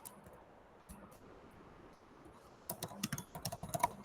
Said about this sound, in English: let me type the question.